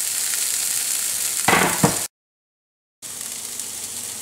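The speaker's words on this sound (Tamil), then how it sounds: "கொஞ்சம் ஒரு வறுத்து வதக்கிக்கலாம்" Chopped food sizzles and crackles steadily in a hot pan while being sautéed for aval upma, with a brief burst of stirring scrapes, then a short silence before the frying hiss resumes.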